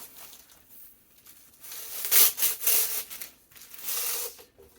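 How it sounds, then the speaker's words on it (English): Tag being pulled off a fabric bolt card, a series of rough tearing and rubbing bursts that swell and fade close by. "Just pull that right off of that card, that bolt card."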